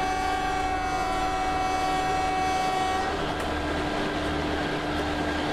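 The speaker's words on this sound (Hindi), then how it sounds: "फिर से हॉर्न बजाते हैं।" Howrah–Puri Garib Rath Express sounds its horn near a level crossing, a loud sustained multi-tone blast lasting about three seconds before it cuts off, leaving the rumble of the moving train.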